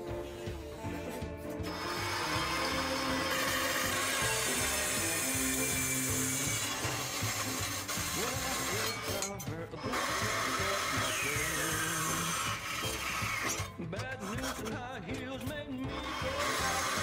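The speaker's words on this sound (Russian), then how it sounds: "с помощью своей новой ножовки по металлу отрезаю" Rhythmic rasping strokes of a new hacksaw cutting through rectangular steel profile pipe, steady and close, with a few short pauses between runs.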